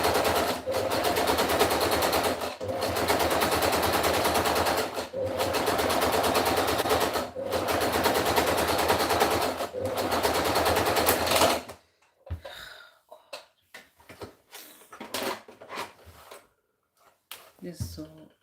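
A sewing machine stitching fabric runs in long loud continuous bursts of rapid needle clatter with short pauses, then stops for handling noises and someone talking.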